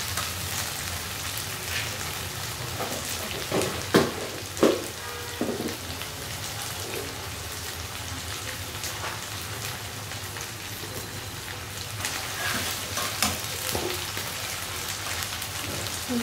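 Baila fish fries in a pan with a steady rain-like sizzle, with a few louder clinks and stirring knocks.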